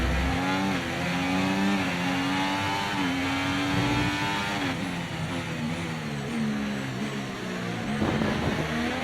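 A Formula 1 car engine in the F1 24 racing game at the Bahrain Grand Prix holds a loud, steady high whine, stepping through gear changes as it accelerates out of a corner.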